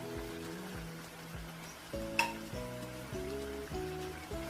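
Goat liver cooking with paprika and turmeric in a pan, a soft steady sizzle with a brief sharp clink of utensil near the middle, quiet and close.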